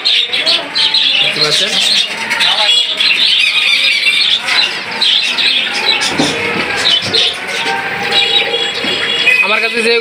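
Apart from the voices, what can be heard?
doves calling and flapping wings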